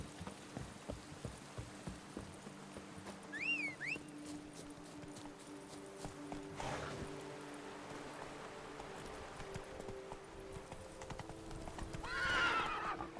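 Roach, the horse in The Witcher 3, clip-clops along at a slow walk with a couple of sharp whinnies, set against faint rain.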